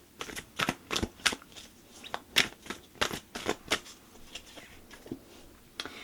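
Oracle cards shuffled by hand close up, a run of crisp flicking riffles in quick irregular bursts, fading near the end, with no talk.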